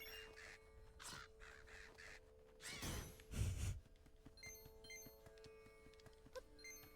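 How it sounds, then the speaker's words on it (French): Cawing of Corviknight, the crow Pokémon, during a battle in a Pokémon video game, with short harsh calls over ongoing game music and sound effects, plus a louder crashing burst in the middle. "Allez, combat de corbeau."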